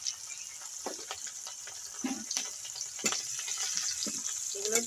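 Garlic, ginger, green chillies and dried red chillies sizzle steadily in hot oil left from frying fish, a continuous close hiss broken by scattered clicks and scrapes of stirring.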